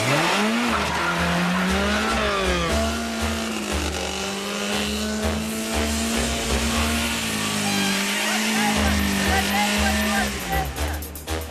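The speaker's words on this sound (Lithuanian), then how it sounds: "Pirmiausia, reikia ženkliai užvesti autotransporto priemonę. Nu, ir lengvai pajudėti." A car engine fires up and revs with rising and falling pitch as the vehicle pulls away, running steady and fairly loud throughout.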